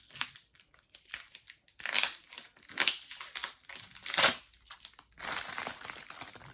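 Loose, crinkly wrapping is torn and crumpled off a poorly wrapped mail package in close, uneven bursts of rustling and crunching, with short pauses between the handfuls.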